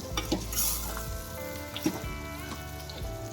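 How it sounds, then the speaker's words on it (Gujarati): Undhiyu vegetables with a little tomato being stirred and mixed in oil in a frying pan, a steady sizzle with a few soft scraping clinks of the spoon close by, no talking. "બધાને મિક્સ કરવાનું છે આવી રીતે આમ"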